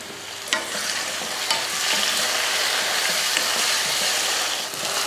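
Onions sizzle steadily as they sauté in a pan, a continuous bright frying hiss with a few stirring clinks of the spoon, close and even in loudness throughout.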